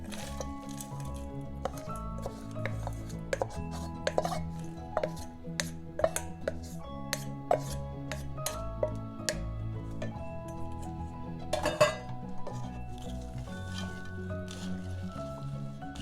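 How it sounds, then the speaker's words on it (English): Frozen peas and carrots added to a bacon ranch pasta salad and mixed, with repeated close clicks, squishes and wet stirring sounds over a steady low tonal hum. "Now I'm going to put in the frozen peas and carrots."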